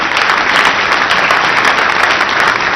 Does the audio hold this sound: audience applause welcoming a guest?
yes